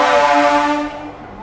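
Horn of a new MEMU train departing Purulia Junction, a single loud, steady tonal blast heard close by that fades out toward the end.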